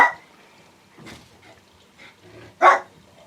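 A dog barks a few times indoors, short separate yips spaced over a few seconds, the last one the loudest and closest.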